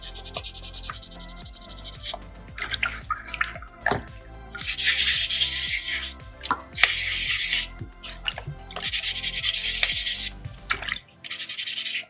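Sandpaper rubs over a small soapstone bison carving in repeated strokes, a dry scratchy hiss that swells and fades in several longer bursts, with light taps and handling noises between them, close up and fairly quiet.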